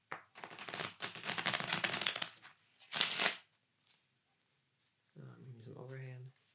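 A deck of playing cards is shuffled in quick riffling bursts, crisp and close, with a short pause between them and a softly speaking voice near the end.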